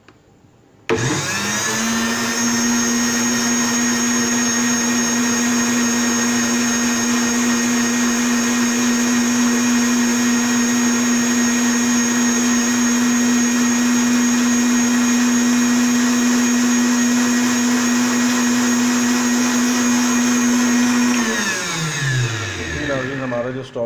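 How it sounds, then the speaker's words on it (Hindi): Kitchen blender grinding fresh strawberries for juice: the motor spins up sharply, holds a loud steady high whine for about twenty seconds, then winds down, close and uninterrupted. "आपने इसको अच्छे से ग्राइंड करना है ताकि स्ट्रॉबेरी इसमें अच्छी तरह हल हो जाए।"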